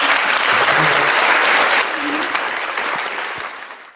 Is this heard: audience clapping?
yes